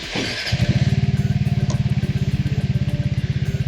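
A Vespa GTS scooter engine cranks briefly, then catches and settles into a steady, rapid putter close by, running alone without talk.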